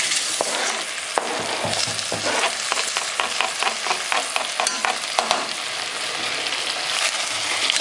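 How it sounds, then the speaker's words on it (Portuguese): Finely chopped onion and two garlic cloves frying in a pan, a dense, bright sizzle with rapid scraping taps of stirring throughout, close and loud, no voices. "Vai misturar bastante, né? Aí você vai colocar a cebola e o alho."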